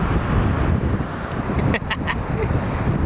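Strong wind on the beach at Peniche, Portugal, roaring steadily and close as it buffets the microphone without letup.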